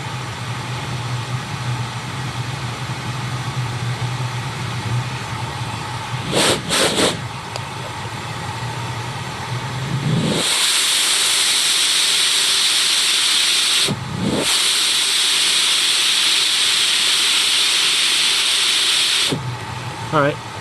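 A Bosch Premium Electro Duo XXL vacuum hums at first, then rises to a loud, steady high-pitched suction hiss during a lift test. The hiss cuts briefly midway, resumes and stops near the end.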